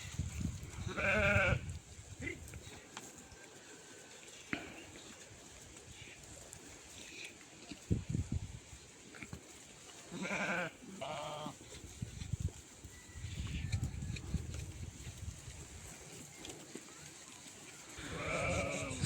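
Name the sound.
flock of sheep grazing in green meadows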